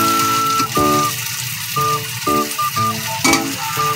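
Torta, a Filipino omelette, fries in a pan with a loud, steady sizzle heard close up. Brief scraping and stirring bursts break in at intervals, with no talking.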